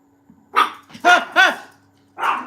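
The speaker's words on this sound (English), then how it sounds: "When you are concentrating on something and that little pissant barks, it scares the crap out of you." A small dog barks four times nearby, sharp yappy barks in a quick cluster of three followed by one more after a short pause, against a quiet room.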